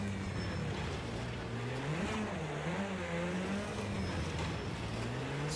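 A rally car's engine revving with its wheels spinning in the racing game Project Cars 2, a loud, steady, close engine drone that rises and falls in pitch, with no talking.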